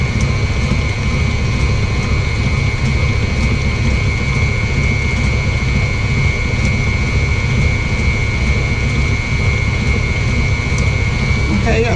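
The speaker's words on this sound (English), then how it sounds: "Sorry about the sound of the mixer" Electric mixer beating cream cheese pound cake batter in a bowl, a loud steady whir that runs unbroken throughout with no pauses.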